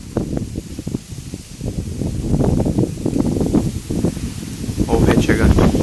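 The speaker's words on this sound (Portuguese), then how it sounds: "Olha que o vento vem chegando, ó." Strong wind rushes through trees ahead of a summer storm in the hills, a dense, surging rustle that swells and eases in gusts, growing louder toward the end, with someone talking over it.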